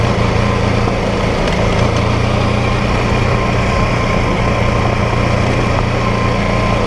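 A BMW F450GS motorcycle engine drones steadily while climbing a Scottish mountain road, a loud, continuous buzzing hum held close throughout with no talking.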